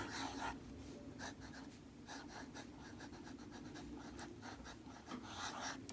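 A pen writes cursive letters on paper in a steady run of soft, scratchy strokes with brief pauses between them, close and quiet with no voices.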